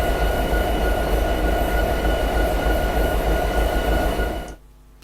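Diesel locomotive in Train Simulator 2016 rolling under braking, a loud steady rumble with rail noise and a constant hum that cuts off abruptly near the end.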